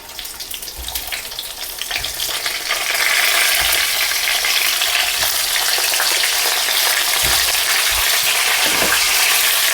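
Stuffed bitter gourds drop into hot oil with reddened cumin, and a soft sizzle swells into a loud, steady frying hiss that continues to the end.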